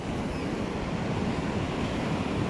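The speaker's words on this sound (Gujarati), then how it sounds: "નદીમાં પાણી તાજું થઈ ગયું છે" Water of the Shetrunji river in Gir flows in a broad, steady rushing roar mixed with wind buffeting the microphone, loud and unbroken, with no voices.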